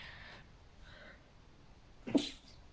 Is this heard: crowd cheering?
no